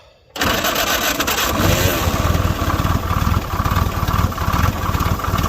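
A 1947 Willys Go Devil engine, wet from cranking and run for the first time in 12 to 15 years, catches after brief silence and settles into a loud, steady running rumble with a rapid, rough firing pulse throughout.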